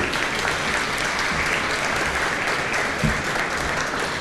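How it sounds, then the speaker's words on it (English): A crowd at a county luncheon applauds continuously, a thick, even wash of clapping that holds at a steady level throughout. "How about a round of applause for that, for our luncheon here?"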